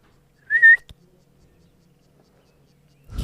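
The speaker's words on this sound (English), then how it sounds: "Maybe if I whistle." A single short, high whistle rings out in near silence, followed by a faint click and a soft thump at the end.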